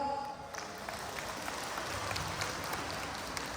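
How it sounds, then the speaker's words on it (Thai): Outdoor audience applause welcoming guests at the International Lahu New Year celebration in Chiang Rai, Thailand, a soft, diffuse patter of clapping heard from a distance beneath general crowd ambience. "ขอปรบมือต้อนรับนะครับ"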